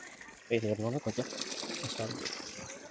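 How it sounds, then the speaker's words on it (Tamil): Water runs steadily from the outlet of a solar-powered pump on a farm in Kalingapatti, Tiruchirappalli district, a continuous trickling flow heard close by under a man's speech. "நம்மளது வெயில் கம்மியாக இருந்தாலும் தண்ணி வந்து நிற்காமல் ஓரளவுக்கு தண்ணி வந்துகிட்டே இருக்கும்"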